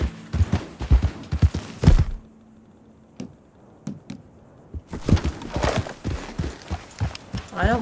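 Horse hooves clip-clopping in Red Dead Redemption 2, close and fairly loud in an irregular trotting rhythm that breaks off for a few quiet seconds of scattered single knocks before picking up again.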